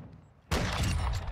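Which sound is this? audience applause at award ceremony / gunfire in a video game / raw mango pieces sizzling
gunfire in a video game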